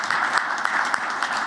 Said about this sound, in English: So I think we owe each other a hand of applause